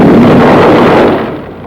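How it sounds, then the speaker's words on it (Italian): A heavy underwater explosion lands as one loud, deep, broad thud that fills the sound at once and then slowly fades over about a second and a half, with no voices. "il grosso tonfo di un'esplosione subacquea li investe"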